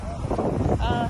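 Strong wind buffets the microphone with a steady low roar, while a voice talks over it.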